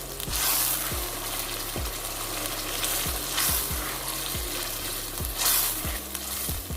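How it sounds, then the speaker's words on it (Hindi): Chicken do piaza sizzles in a pan as ground green coriander is mixed in, a steady frying hiss broken by regular scraping strokes of a spoon against the pan, close and continuous without any voices. "और इसको अब अच्छे से मिक्स करेंगे।"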